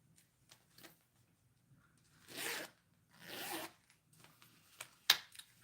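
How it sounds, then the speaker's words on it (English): A vintage wallet's change zipper is pulled twice, giving two short, close rasping zips separated by a pause, framed by soft handling sounds and a sharp click near the end. "and then a zipper for your change"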